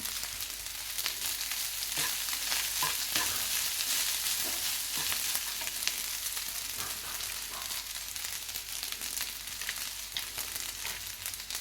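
Curry leaves fry in hot oil for curry leaf rice, a steady close sizzle with crackles and occasional stirring scrapes throughout.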